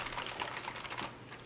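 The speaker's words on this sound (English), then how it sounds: "good sounds of typing" Typing on a computer keyboard fitted with upgraded key switches, a steady close run of crisp keystrokes filling the short moment with no talk.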